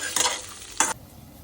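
Dal tadka frying and being stirred in a pan in a home kitchen, with two short bursts of loud sizzling and spoon scraping separated by a quieter pause, then fading to faint background.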